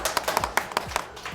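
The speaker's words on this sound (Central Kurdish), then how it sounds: "یەک چەپڵەی بەهێز بۆ خۆم" Hands clap in a quick, uneven run of about nine sharp claps at a school, close and moderately loud with no talk over them.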